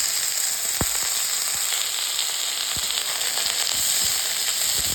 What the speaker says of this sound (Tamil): இப்போ பிரண்டையை வதக்கிக்கலாம்.